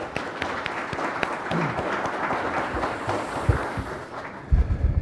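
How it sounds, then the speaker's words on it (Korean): An audience at a national assembly budget forum claps to welcome the committee chairman, a moderate, somewhat distant patter of hands with a few louder bumps near the end. "위원장님을 박수로 모시겠습니다."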